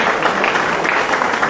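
An audience at a Ram Leela event in a community centre hall applauding to thank the helpers, a loud, dense wash of clapping close by that continues without a break.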